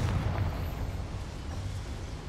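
A Confringo spell blast in the Hogwarts Legacy video game gives a short, heavy explosive burst with a deep rumbling boom that fades into a dull, noisy tail.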